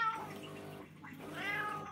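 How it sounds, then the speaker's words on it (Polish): A domestic cat meowing insistently, two drawn-out, wavering cries close by with no other sound in between. "Miauczysz tylko i miauczysz."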